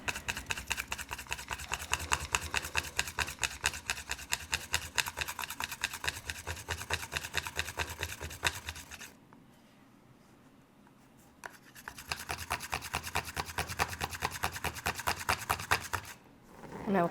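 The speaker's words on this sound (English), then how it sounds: "you're just applying downward pressure and rocking back and forth to create a coil" Sterling metal clay (EZ925) being rolled into a coil beneath an acrylic sheet resting on a rolling frame, giving a steady rapid rubbing, rasping texture that runs for about nine seconds, pauses, then resumes with no talking.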